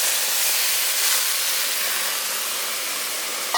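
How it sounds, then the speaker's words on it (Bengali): Hot water pours into a pot of dalia khichdi with a continuous loud hiss and rush that holds steady for several seconds, ending with a small knock. "আর আমি এখানে গরম জল দিচ্ছি"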